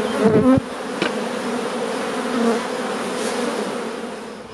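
A dense, steady hum of many honeybees buzzing inside a hive, close and continuous, with a few louder bumps near the start.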